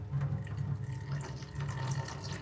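Water runs steadily from a tap as live kolim shrimp from a creek are washed in a vessel, a continuous close splashing and pouring with no break.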